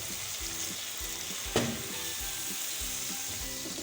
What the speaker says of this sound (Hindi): तो यहाँ पे हमने अच्छे से गोश्त को मिक्स कर लिया है मसालों के साथ।